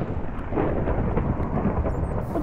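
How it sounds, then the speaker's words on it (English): Thunder rumbles in a Minecraft game, a loud, sustained low roll with a faint patter of rain over it and no talking. "Ooh, thunder."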